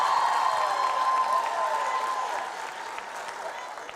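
Applause and cheering rise from a comedy audience, a dense, steady wash of clapping with some whoops that slowly fades over a few seconds.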